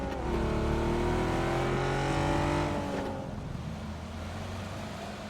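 A car engine droning and revving in the video game PUBG, loud and steady with rising pitch, then easing off into a lower rumble as it drives on.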